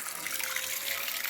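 Water runs steadily from a tap while fresh fish are washed, a continuous close hiss and trickle without talk.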